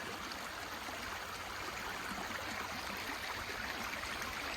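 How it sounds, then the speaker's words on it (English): A creek draining out of a pond runs steadily and fairly strongly, a continuous close rushing and gurgling of flowing water with no voices. "the creek that empties out from the pond, water's running pretty good"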